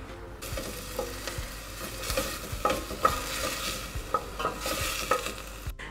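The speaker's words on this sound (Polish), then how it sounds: "Dajemy trochę masła. I wrzucamy najpierw cebulkę." Onion fries in butter in a pan, a close, steady sizzle with scattered spatula scrapes and small clicks, moderately quiet and uninterrupted.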